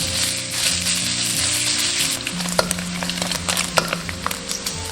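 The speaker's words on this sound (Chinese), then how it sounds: "锅中不用倒油，直接下入猪肉，" Diced pork frying in a dry wok without oil to render its fat, a close, steady sizzle with sharp pops and crackles that grow more frequent toward the end, with no talk.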